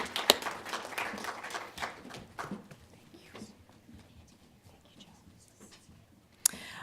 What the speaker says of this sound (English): let's give another round of applause to our panelists today